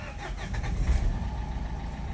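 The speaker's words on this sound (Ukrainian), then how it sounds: "і заводимо автомобіль." A Renault Megane 3 engine cranks and catches, settling into a low rumbling idle, close and moderately loud.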